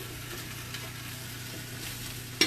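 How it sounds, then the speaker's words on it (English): Greens stirred in a hot pan give a soft, steady sizzle with a low hiss throughout, quiet and close, ending in a sharp scrape of the utensil. "So keep stirring your greens so that they're not burning on the bottom."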